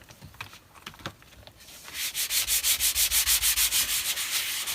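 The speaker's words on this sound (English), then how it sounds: "I think I want to sand a little bit" Sandpaper rubs a glossy magazine cover to dull it for a junk journal, quiet scuffs at first, then a loud, rapid run of rhythmic back-and-forth strokes close up.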